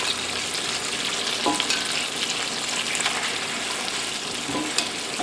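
Boiled apple pierogies with cinnamon and sugar fry in butter in a pan, giving a steady, close crackling sizzle throughout with a few soft scrapes and pops, and no talking.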